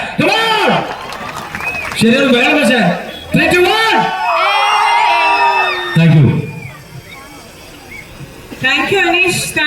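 A crowd at a festive gathering applauds and cheers, with whoops and children shouting mixed into loud talk and a prominent nearby voice.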